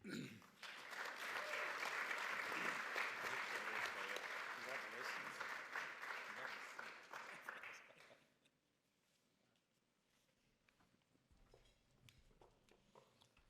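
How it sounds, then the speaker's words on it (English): Applause for honorees at an HR achievement awards event, a full round of clapping that swells and holds for several seconds, then fades out, leaving quiet room sound and a few footsteps. "let's give another round of applause to all of our honorees"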